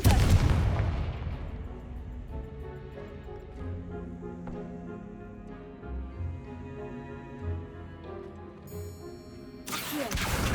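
A Confringo blasting spell goes off in Hogwarts Legacy with a loud, booming explosion, a long, rumbling fade, then another sharp blast near the end.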